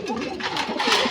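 Pigeons in a loft, most of them nesting on eggs, coo softly and repeatedly at close range in a short, continuous burble with no talk.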